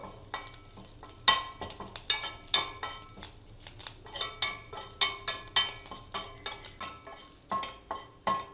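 Curry leaves and lentils dry-roast in a pan for Andhra-style paruppu podi, with a spoon scraping and clinking against the metal in a brisk, uneven rhythm over a faint sizzle.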